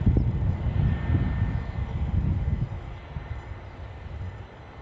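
An Airbus A320 jet on a return flight to Heathrow, seen from Edinburgh airport, gives a steady low engine roar that gradually fades as it moves away, with no talk.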